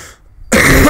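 A single sharp, loud cough right up close, following a brief faint breath or sniff.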